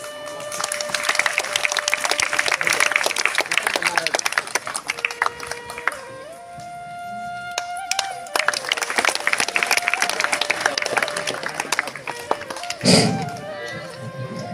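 A crowd applauds at a school Independence Day felicitation, a dense patter of clapping swelling and easing in waves, with tones and voices mixed in and a brief louder burst near the end.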